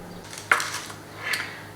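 A lid is set onto a pot with two short metallic clinks in a quiet kitchen, the first sharper than the second, as homemade bread goes into the oven.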